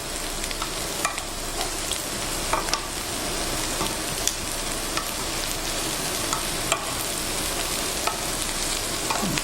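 Shrimp scampi sizzles and fries steadily in a pan, with occasional scrapes and clicks of stirring rising above the constant crackle throughout.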